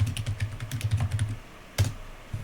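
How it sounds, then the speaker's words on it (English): Rapid keystrokes on a computer keyboard come in a quick close burst of clicks, then pause before a single louder tap and one last press. "I'm gonna type in"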